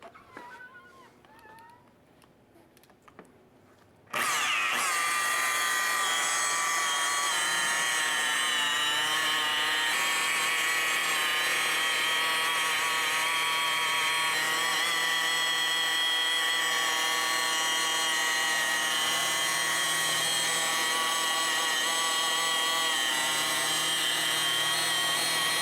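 A power polisher buffs a car's paintwork with a soft finishing pad and machine glaze, a loud steady high-pitched whine that starts abruptly after a few quiet seconds and holds constant, with no talking.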